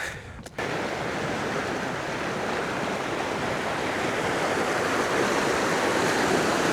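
Steady broadband wash of sea surf rolling continuously on Lanzarote in the Canary Islands, fairly close and loud, after a brief bump at the very start; no voices.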